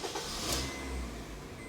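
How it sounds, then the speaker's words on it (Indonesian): A 2015 Honda Mobilio RS engine starts with a brief cranking whir and settles into a low, steady idle hum, heard close and fairly quiet. "Saya akan nyalakan mesinnya."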